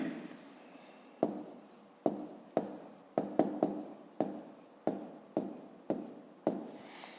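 Pen or pencil strokes on paper during a school maths exercise, a series of about a dozen short, crisp scratching taps at an uneven rhythm, close and quiet against a near-silent background.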